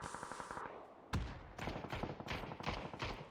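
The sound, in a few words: gunshots in a battle royale video game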